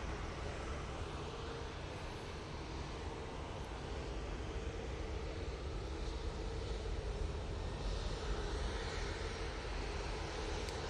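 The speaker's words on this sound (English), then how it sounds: "So that is the Jet2 going off to Mahon." A Jet2 airliner taking off from Manchester Airport, a broad steady engine roar heard from a distance, constant and unbroken throughout with no voices.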